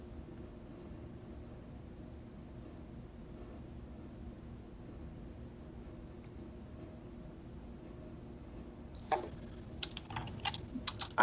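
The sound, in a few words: typing on a computer keyboard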